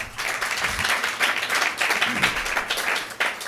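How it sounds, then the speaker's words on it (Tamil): A church congregation clapping their hands together as a group, a dense, steady patter of many overlapping claps that fills the room at moderate loudness, with no voices rising above it. "கைத்தட்டிடுங்க"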